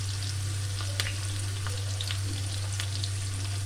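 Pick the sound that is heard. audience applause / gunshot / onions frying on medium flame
onions frying on medium flame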